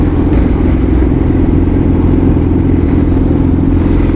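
A three-year-old second-hand motorcycle engine running, a loud, close, continuous low rumble with rapid firing pulses and steady output throughout, no voices.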